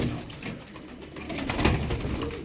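Crested Turkish pigeons coo softly amid a dense, noisy outdoor background, their low throaty calls partly masked and fairly close.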